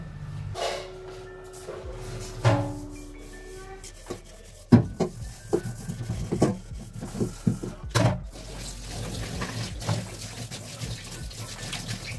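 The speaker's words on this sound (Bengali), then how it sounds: "কারণ এখানে রয়েছে বেসিন ভর্তি বাসন, সেটা আমাকে ধুতে হবে" Dishes being washed in a basin full of utensils under a running tap, with water gushing steadily while plates and pots clink and rub in irregular bursts, close by, with no talk.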